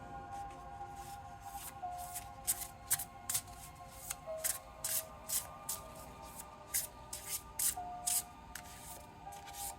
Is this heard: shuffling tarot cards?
yes